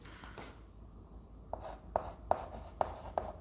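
Chalk or marker strokes on a board during an English grammar lesson, a quiet series of short, crisp taps and scratches spaced about half a second apart over faint room noise.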